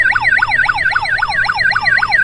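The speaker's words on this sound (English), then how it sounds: "A ride on ambulance." A Doc McStuffins ride-on toy ambulance sounds its electronic siren, a steady repeating wail that sweeps up and down about four times a second, loud and close with no voices over it.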